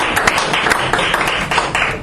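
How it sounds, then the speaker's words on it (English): Audience applause at a Fort Worth AA speaker meeting, a steady wash of many hands clapping with irregular sharper claps, filling the room without any talking. "I want to hear a round of applause for Scott."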